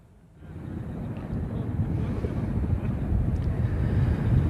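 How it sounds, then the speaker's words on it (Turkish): Strong wind roars and buffets the microphone on Çiçek Baba Mountain near Köyceğiz, Turkey, during a forest fire, rising after a brief quiet start into a continuous, gusty low rumble. "burada rüzgar hiç dinmiyor maalesef"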